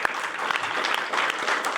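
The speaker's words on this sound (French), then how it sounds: "on applaudit Mike" An audience at a French talk-show celebration applauds Mike in a dense, even wash of clapping that runs steadily through the short moment without any voices.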